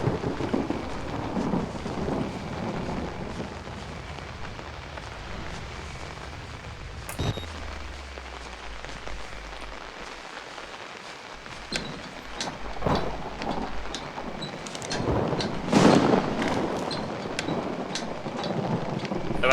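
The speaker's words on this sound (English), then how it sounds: "The only difference between those thunderstorms and thunderstorms in this game" Heavy rain and rumbling thunderstorm in the horror video game Outlast, with a steady wash of rainfall and several sharp thunder cracks and rolls spread through, loud and unbroken by speech.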